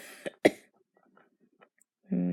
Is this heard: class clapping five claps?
no